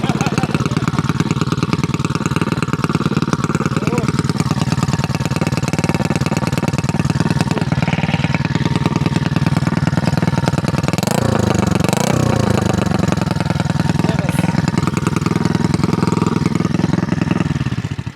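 A 50cc motorcycle engine runs continuously nearby with a steady buzzing idle and a couple of brief revs partway through.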